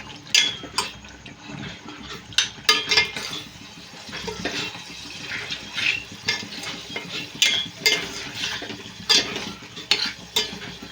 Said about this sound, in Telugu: ఇప్పుడు ఇవన్నీ ఆయిల్లో ఫ్రై చేసుకోవాలి